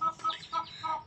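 A hen gives a few quick, soft clucks in a short rhythmic run, fairly close and quiet.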